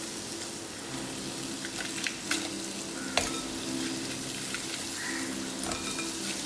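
Crab fries in a hot pan and is stirred, giving a continuous loud sizzle with scraping stir strokes and occasional pops close up, and no talk.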